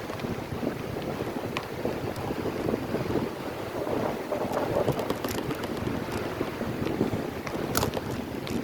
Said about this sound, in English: I'm hitting some good headwind here.